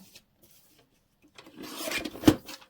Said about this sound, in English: Let's trim that a bit more.